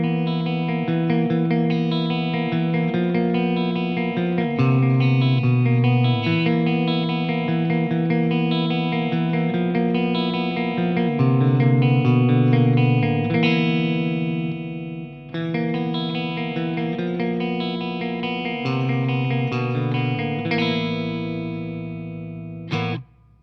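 Electric guitar played through a Meteoro MAK 3000 amplifier on its channel C, a boosted-bass setting, heard alone as sustained distorted chords and notes with steady loudness, light reverb, and a sharp final strum.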